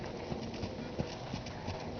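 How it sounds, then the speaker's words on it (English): Soft, rapid hoofbeats clip-clop in a steady trotting rhythm on the ground, somewhat distant and muffled, with faint background noise. "Just trot him, Kate."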